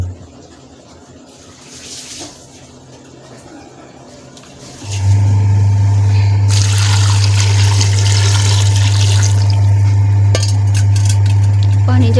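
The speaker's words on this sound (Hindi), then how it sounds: "और अब मैं पानी ऐड करूँगी।" Water pours into a cooking pot for a goat trotters curry with whole unpeeled garlic: a soft trickle first, then a steady, loud gushing stream from the tap that runs on without pause.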